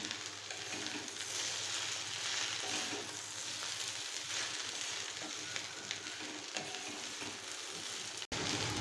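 Sliced okra fries in a pan while salt is stirred through it. A steady, close sizzle of hot oil continues throughout, with occasional scraping stir sounds and a brief cut near the end.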